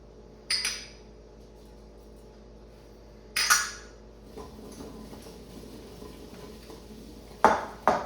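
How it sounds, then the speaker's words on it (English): Cubed butternut squash coated in olive oil, salt and pepper is tossed onto a metal baking pan, making a few separate clattering, scraping bursts with quiet gaps between them. "Then we'll sprinkle with our salt and pepper, toss it together, throw it on the pan."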